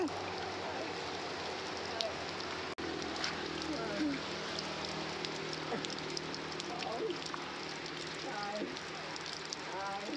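Rain patters steadily on surfaces, with scattered drips. Voices murmur faintly underneath.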